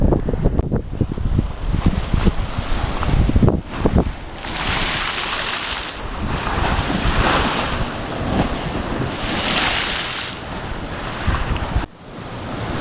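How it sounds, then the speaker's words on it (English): Ocean waves and surf roar beside a running path, loud and continuous, with heavy wind buffeting the microphone and surges of breaking water rising and falling. "Right here beside the ocean."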